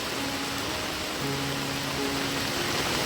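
A river swollen by heavy monsoon rain in a Konkan village surges beneath a bridge, a broad steady rushing wash heard from above, fairly soft and unbroken, with faint tonal hums drifting through.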